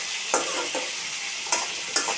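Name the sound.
potatoes being stir-fried in oil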